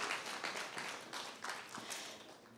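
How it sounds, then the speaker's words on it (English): Audience applause at the medal ceremony of a regional youth English debate competition, with dense steady clapping from a crowd that carries through the whole stretch at a fairly even level. "Please give another big round of applause to our awardees."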